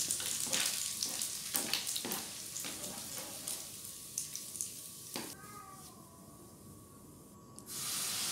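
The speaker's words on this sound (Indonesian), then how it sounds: "Sekarang aku mulai numis bumbu-bumbunya ya. Jadi ini bumbu halusnya kita tumis sampai harum ya teman-teman." A ground spice paste sautéing in a pan crackles and hisses at close range, with scraping stir strokes early on, settling into a quieter sizzle before a burst of hiss near the end.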